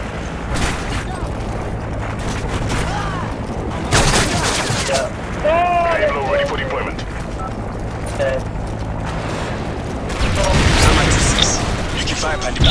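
Bursts of video game gunfire crackle in clusters of rapid shots with heavy booms, loud and close, while players talk over the action.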